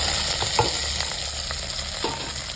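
Onions frying in hot oil for a chicken kulambu made with small onions: a loud, continuous sizzle over a low steady hum, dotted with light clinks and stirring taps, no voices.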